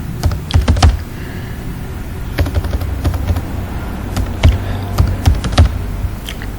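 Typing on a computer keyboard while writing in Microsoft Word 2007: close, irregular clusters of clicking keystrokes with short pauses between bursts.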